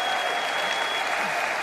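Steady applause from a large conference audience at AIPAC 2018, an even wash of many hands clapping throughout with no break.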